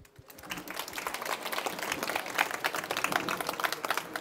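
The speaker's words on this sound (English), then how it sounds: "round of applause for Marcus CHOWN" Audience applause greeting science writer Marcus Chown as he takes the stage for a talk on the solar system, a dense, steady patter of many hands clapping indoors for several seconds without speech.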